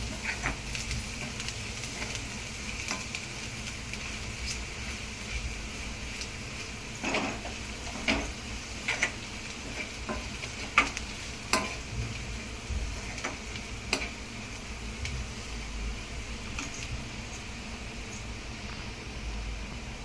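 A spoon scrapes and taps in a pan as red chili masala is stirred into onions, with a soft sizzle underneath and scattered clicks, quiet and close with no talking.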